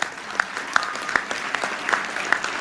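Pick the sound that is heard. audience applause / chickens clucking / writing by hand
audience applause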